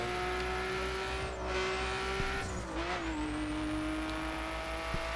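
A Nissan Skyline drives in The Crew with a steady engine drone at constant pitch. The tone dips and recovers briefly as gears shift, and faint tire noise runs underneath, with no talk.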